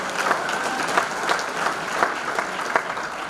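A hall of fame ceremony audience applauds steadily, a dense wash of many hands clapping with a few sharper claps standing out, sustained and even throughout, without talking.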